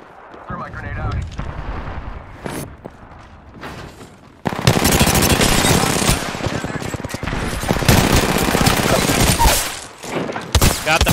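Rapid, loud bursts of automatic gunfire in an Apex Legends Arenas match on Thermal Station, dense and sustained after a quieter opening, with players' voices talking underneath.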